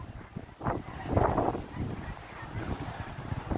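Gull or tern calling over an Atlantic Ocean fishing pier at Wrightsville Beach, North Carolina, with a couple of honking cries rising above steady wind rumble and surf-like background noise.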